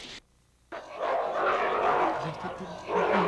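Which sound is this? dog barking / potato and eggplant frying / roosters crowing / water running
dog barking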